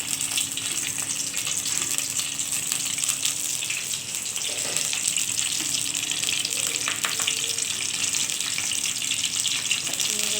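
Dried red chillies and bay leaves sizzle in hot oil in a pan, giving a steady, close hiss that holds level throughout with faint clinks and a voice speaking over it.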